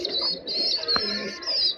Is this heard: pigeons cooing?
yes